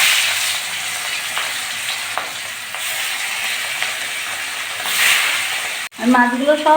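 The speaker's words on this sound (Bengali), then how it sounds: "একই রকম করে ভেজে তুলে নেব মাছগুলো সব ভেজে নিয়েছি" Catla fish pieces frying in hot oil, with a steady close sizzle and hiss that swells briefly near the end, followed by a short cut to voices talking.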